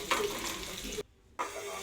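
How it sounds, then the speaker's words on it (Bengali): Cut potatoes fry in hot mustard oil in a wok on a gas stove, giving a loud, close, bright sizzle that cuts out abruptly for a moment and then returns just as strong. "একটা গ্যাসের ওভেনে কড়া বসিয়ে দিলাম, কিছুটা সর্ষের তেল দিয়ে দিলাম। তেলটা ভালো করে গরম হয়ে গেল, কেটে রাখা আলুগুলো দিয়ে দেবো।"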